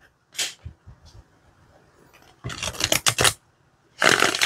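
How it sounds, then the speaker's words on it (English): A Medieval Cat Tarot card deck is shuffled by hand, with a few brief papery flicks followed by longer bursts of cards riffling, close and crisp with quiet pauses between. "Now let's try and shuffle the cards."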